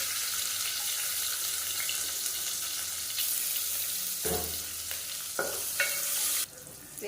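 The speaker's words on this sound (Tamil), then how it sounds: "வெங்காயம் நல்லா வதங்கிடுச்சு." Chopped shallots and fennel seeds fry in a pan with a steady, close sizzle, broken by a few louder stirring scrapes and clinks, with no one talking.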